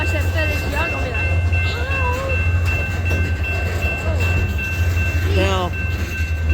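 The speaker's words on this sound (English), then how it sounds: "Now all these guys, these guys love trains. Exactly, those people right there, they love the train." A DeQueen and Eastern Railroad GP locomotive, number 2903, rolls past near Valliant, Oklahoma, with a steady low rumble throughout while people talk over it.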